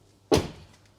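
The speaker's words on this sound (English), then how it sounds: "I'm going to try and close the door and see what it looks like." Tesla Model 3 car door closing after window trim alignment, one solid, close thud with a short muffled decay in an otherwise quiet garage.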